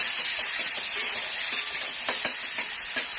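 Garlic, chopped tomato and ginger-garlic paste sizzle steadily in a hot pan, with a continuous frying hiss and occasional soft stirring scrapes, close and fairly loud with no talk.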